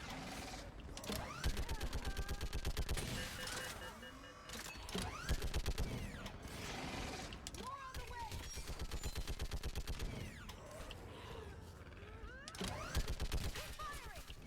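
Sustained turret gunfire in the game Mass Effect 3, a rapid, steady stream of loud mechanical shots that rolls on in long bursts with brief pauses, with a voice briefly heard under it.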